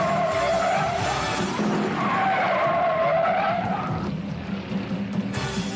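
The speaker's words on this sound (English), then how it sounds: "spun that Dodge all the way around, but he keeps it out of trouble" A Dodge stock car spins all the way around at the 1971 Motor Trend 500 race at Riverside, tires skidding and squealing loudly and continuously over engine roar for several seconds.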